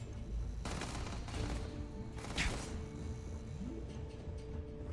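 Gunfire in Starfield crackles in clustered volleys over a loud, busy combat background, with a few sharper bursts standing out and a brief rising tone near the end.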